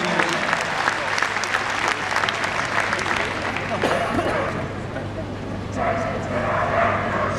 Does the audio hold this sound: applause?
yes